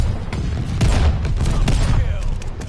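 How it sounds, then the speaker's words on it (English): Bombing-run explosions and heavy gunfire in the Call of Duty: Vanguard video game, a dense, continuous barrage of booms and shots that stays loud throughout, with some player voices mixed in. "Teammate called a bombing run, heads up."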